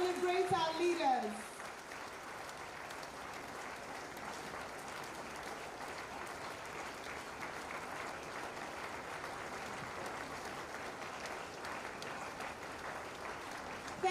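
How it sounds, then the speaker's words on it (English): Parents in the audience keep up a sustained, even round of clapping at an accountants' institute induction ceremony, preceded by a brief amplified voice at the start, then a continuous mid-distance patter of many hands. "Thank you, parents, for clapping."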